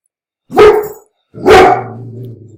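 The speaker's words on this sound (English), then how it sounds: "my dog's in the background" Two loud, close barks from a dog in a quiet home office, the second trailing into a longer whine-like tail.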